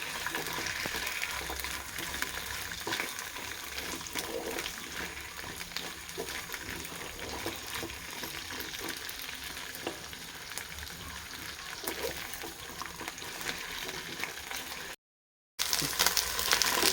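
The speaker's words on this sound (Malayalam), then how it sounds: "വെളിച്ചെണ്ണയിലേക്ക് വെണ്ടക്ക ഇതൊന്ന് വാട്ടിയെടുക്കാം" Okra sautés in coconut oil for sambar with a dense, steady sizzle and crackle that runs close and continuous, broken by a brief cut near the end before the frying resumes.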